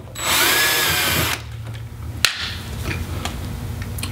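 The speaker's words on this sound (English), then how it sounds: "then we'll drill our second hole" A power drill bores a hole while a YakAttack LeverLoc anchor trolley is mounted on a kayak, with a loud, steady whine lasting just over a second, then quieter handling clicks and a sharp knock.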